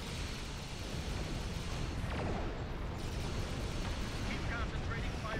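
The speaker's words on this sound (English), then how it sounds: "Through the explosion." A Star Trek Online space battle explosion rumbles as a continuous loud, dense roar with rolling low booms, with some faint voices over it.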